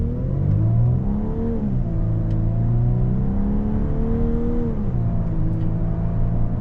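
A 2025 Volkswagen Atlas Cross Sport accelerates from inside the cabin, its engine note climbing and dropping with each paddle-shifted gear change, a steady loud drone with rising and falling pitch and no talk over it.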